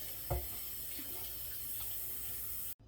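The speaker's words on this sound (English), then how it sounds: "Okay, so let's put some water in this." A kitchen tap runs water into a cooking pot, a steady close splashing stream that starts with a small thump and stops abruptly at the end.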